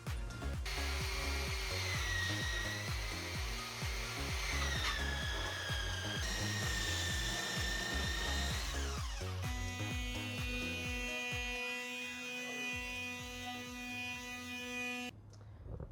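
A power sander sanding wood for van storage shelves whines steadily with a rising and shifting pitch, then settles into a constant electric hum before cutting off.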